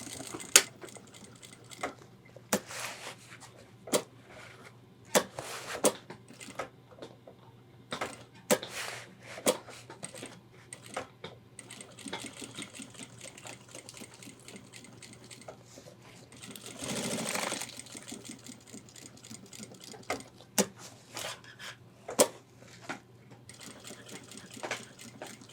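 A sewing machine double-stitches backpack shoulder straps, running in short bursts with mechanical whirring and clicking, quiet and close, with brief pauses and handling noises between runs.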